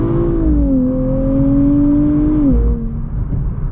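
Car engine revs up and holds a steady high drone after a downshift into second gear in Sport Plus mode, loud and close with a smooth rising pitch that dips slightly near the end.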